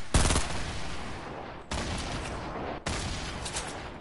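Sustained automatic gunfire rattles in a video game shooter, three long loud bursts of rapid shots that cut off abruptly and restart, close and dense with no talk.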